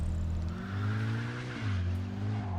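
A convertible car engine in the video game Mafia II drones steadily, dipping briefly then picking back up, a close, continuous motor hum with no talking.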